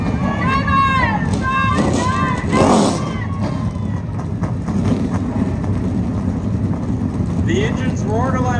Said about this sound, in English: The engines roar to life here.